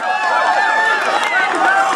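A crowd cheers and shouts continuously at a peanut push race during a Christmas Clearing House event, with overlapping voices and excited calls forming a steady loud wash.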